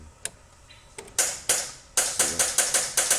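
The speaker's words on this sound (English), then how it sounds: "the first thing you want to do is loosen these two screws for these latches" Screws being loosened on the latches of an arcade coin door, a series of sharp close metallic clicks and ratcheting taps, sparse at first and then coming in a quick regular run.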